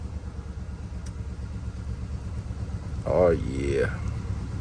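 Chevy Silverado engine idling with a supercharger blower, a steady close mechanical rumble with a short vocal exclamation over it partway through.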